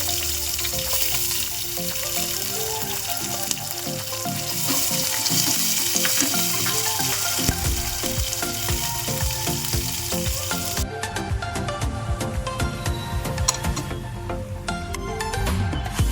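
Onion and curry leaves sauté in oil for a moong dal curry, giving a loud, close, continuous sizzle that shifts in texture partway through, with no talking.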